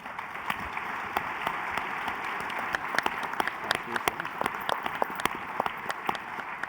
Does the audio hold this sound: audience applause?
yes